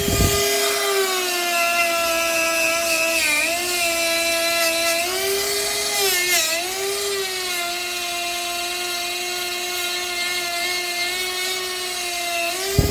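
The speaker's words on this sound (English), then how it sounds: "Now we're going to go over it with the Scotch-Brite abrasive wheel." A Scotch-Brite abrasive wheel spins against a rusty combustion chamber, a close, high-pitched whirring whine that dips and rises in pitch as it bears on the metal, running continuously.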